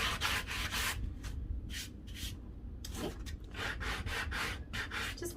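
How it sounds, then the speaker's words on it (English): Sanding block rubbing along the edges of yellow-painted wood to distress it, a series of rough scraping strokes in bursts, close and fairly loud with short pauses between passes. "We're going to start with the rougher side. We're just going to start distressing the edges."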